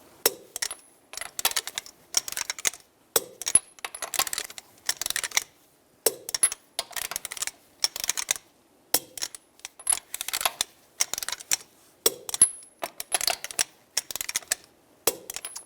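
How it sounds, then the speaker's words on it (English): A torque wrench with a 21mm socket tightens car lug nuts on a 2005-15 Nissan Xterra wheel, giving repeated rapid ratcheting clicks in short bursts with brief pauses, close and clear with no talk. "Now we're going to torque the lug nuts to 98 foot-pounds in a cross pattern with a 21mm socket to tighten the wheel down evenly"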